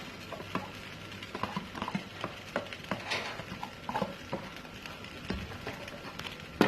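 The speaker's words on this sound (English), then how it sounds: "I'm just gonna combine the egg, the rice, and the mixed vegetables together" Scrambled egg, rice and mixed vegetables for shrimp fried rice being stirred in a pan, with soft irregular scraping taps and a light sizzle, close and fairly quiet.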